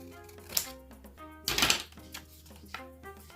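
Paper snipped with scissors while trimming a stamped angel or fairy embellishment, heard as a few crisp close cuts, with a louder burst of rustling near the middle.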